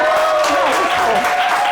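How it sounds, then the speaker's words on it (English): A studio audience claps for a guest cook after a duck dish, a dense, loud burst of applause with voices and cheers blended over it. "Clap for my best friend."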